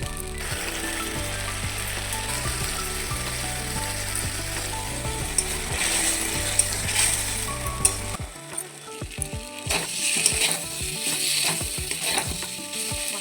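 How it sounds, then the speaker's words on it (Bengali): A ground paste of onion, garlic, ginger, cumin and tomato sautéing with fried potatoes for an egg omelette curry, giving a continuous sizzle with a rhythmic mechanical churn that stops partway, followed by sharp scraping stirs. "মশলা কষানো হয়ে গেছে"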